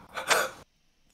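A single sharp, breathy sneeze burst, close and fairly loud, cutting off abruptly into near silence.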